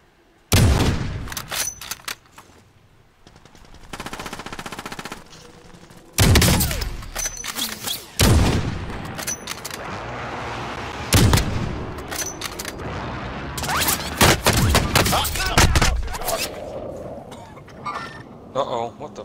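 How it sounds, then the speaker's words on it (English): Bursts of gunfire in a video game, loud shots and rapid volleys crackling at intervals across the stretch with quieter gaps between, while a player talks in between. "the guy down over the hill shot me"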